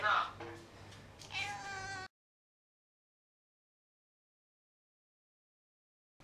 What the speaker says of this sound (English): Yeah, you can hear a cat.